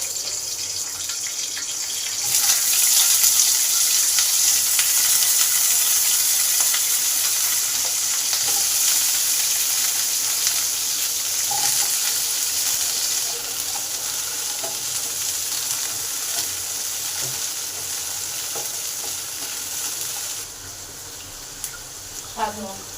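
Cut potatoes and cauliflower frying in hot oil for a vegetarian khichuri: a loud, steady sizzle that starts abruptly and hisses continuously, with occasional stirring clinks, before fading near the end.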